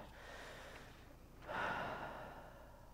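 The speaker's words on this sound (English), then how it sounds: "let's take a deep breath" A worshipping congregation at a Wednesday church service draws one shared deep breath, a soft, faint inhalation rising out of quiet room noise and trailing off slowly.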